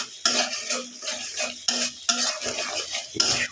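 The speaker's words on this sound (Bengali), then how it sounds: "আস্তে আস্তে কষানো হচ্ছে।" Spice masala being slowly sautéed and stirred in a pan: repeated scraping strokes of a utensil against the pan over a soft sizzle, close and steady, with no talking.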